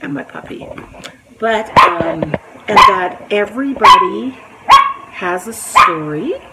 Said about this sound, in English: If you hear a noise in the background, it's my dishwasher and my puppy.